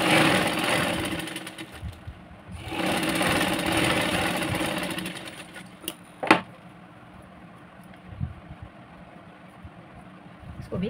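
Electric sewing machine stitching the shoulder joint of a half-cup blouse, two pieces held at a half-inch seam; steady motor whir runs in two long bursts, then stops, leaving light handling clicks.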